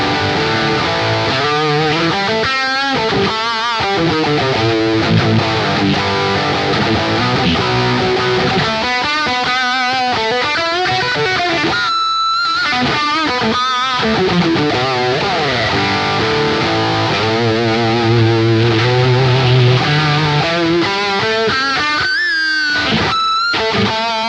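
An electric guitar plays loud and close through a Wampler Pantheon overdrive stacked into a distortion, giving a thick, saturated sustained tone with chords and riffs ringing on for the whole stretch.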